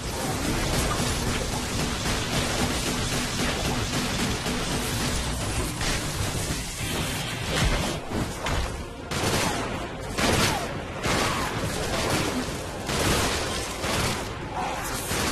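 Continuous gunfire and chaotic blasts from the Xbox One game Sunset Overdrive, dense and loud throughout with rapid overlapping shots and bursts, no talking.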